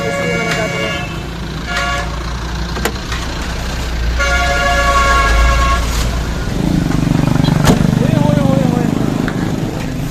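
A car engine hums steadily while driving, with several short horn toots from passing traffic, and people talk inside the vehicle.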